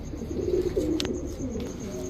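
Racer pigeons at a Bangladeshi pigeon seller's loft, a few soft low coos rising and falling over a short stretch, close by, with faint background chirps and no talk.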